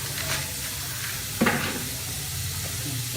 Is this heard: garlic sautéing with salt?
yes